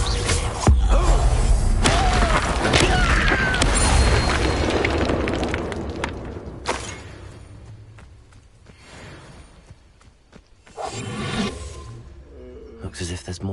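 An Incendio fire spell cast in Hogwarts Legacy, heard as a loud roaring, booming burst of flame up front that fades away. A rumbling crackle follows, and another burst comes near the end with game sounds mixed in.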